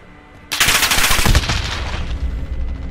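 Automatic gunfire in the Call of Duty Modern Warfare beta, a Headquarters match, erupts suddenly after half a second of quiet into a loud, dense run of rapid shots that then settles into a steadier rattling barrage.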